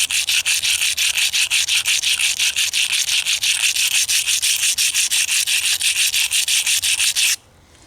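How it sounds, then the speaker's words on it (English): Slate spearhead ground by hand against an abrasive surface, a steady run of rapid, rhythmic scraping strokes that stays loud and close for about seven seconds before stopping abruptly. "We're just going to sit here and grind this by hand."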